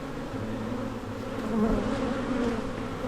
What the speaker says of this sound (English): This is the swarm that came back to the hive.